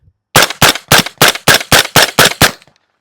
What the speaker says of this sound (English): I have some 198 grain Balck Hills subsonic ammunition